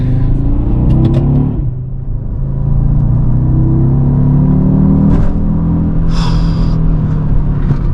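An Audi RSQ3 engine revs while driving, a loud close rumble with rising and falling pitch as it accelerates, and brief sharp noises above it.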